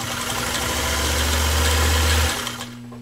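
Singer Spartan 192K sewing machine with a 0.8 amp motor stitching through 8-ounce genuine cowhide leather, a steady loud motor whir and hum running for over two seconds without hesitation, then stopping, with no talking.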